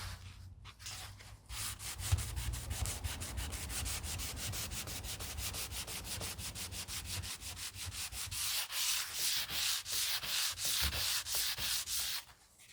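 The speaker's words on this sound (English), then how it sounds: "It goes through a lot of sandpaper doing" Wood of a jewelry box being sanded by hand with sandpaper: steady, close scratchy rubbing strokes, evenly repeated in a brisk back-and-forth rhythm throughout, with no talk.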